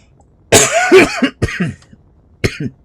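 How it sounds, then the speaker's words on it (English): A man coughs in a series of harsh, close bursts: a long rough cough followed by shorter hacking ones, then another pair after a pause. "Excuse me, I got a cough."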